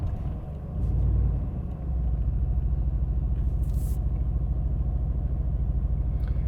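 A 2020 Aston Martin Vantage Coupe engine rumbles loudly and steadily, swelling briefly near the start, then holding a strong, continuous low growl.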